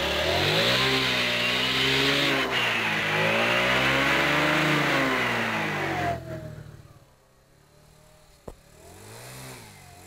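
A 50cc four-stroke scooter with a derestricted carburetor revs hard, its engine rising and falling in repeated throttle swells for about six seconds before dropping to a low idle and a faint sharp click.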